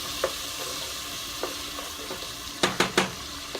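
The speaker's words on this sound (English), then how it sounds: "2 tablespoons of sofrito. You gotta quick stir." Sofrito stirred quickly into hot oil with garlic in a pot for arroz con gandules, a steady sizzle under a few soft spoon scrapes and clinks near the end.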